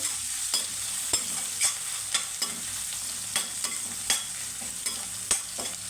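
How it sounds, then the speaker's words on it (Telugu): Onions with curry leaves frying in a pan, a low steady sizzle punctuated by regular sharp scrapes of a spoon stirring them, close by and without any voices. "ఉల్లిపాయ బాగా సాఫ్ట్గా అయిందాక వేయించుకోవాలండి మంచి కలర్ రావాలి"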